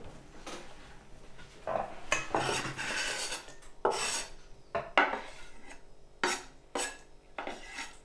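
Chopped garlic, onion and Jagdwurst sausage are scraped into a bowl of avocado for a vegan dip. Close metal utensils clink and rasp against the dishes in irregular clattering bursts.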